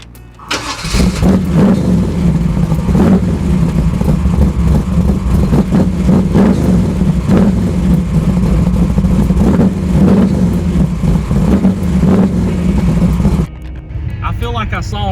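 Muscle cars at an eighth-mile drag race, including a 1981 Trans Am with an LSX 5.3, rev and accelerate loudly and steadily for about thirteen seconds, close and dominant, with a voice talking over the engine noise.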